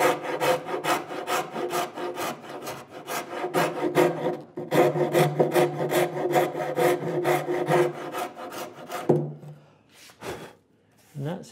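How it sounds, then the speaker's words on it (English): A woodworking rasp files the edge of a wooden workbench drawer in steady, rhythmic back-and-forth strokes, close and loud, with short pauses between runs of strokes. "I can get with a rasp. If you don't have a rasp, you'll have to go with your chisel."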